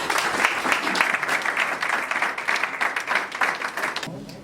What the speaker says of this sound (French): Ce à quoi je vous invite à applaudir.